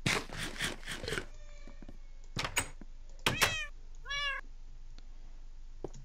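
Cats in the video game Minecraft let out a quick run of meows at the start, then a few more spaced calls including a clear wavering meow, near and fairly loud with no talk.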